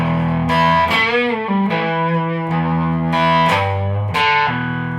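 Distorted electric guitar playing a slowed-down lick, sustained bent notes and short phrase changes ringing loudly and close, alone without talk.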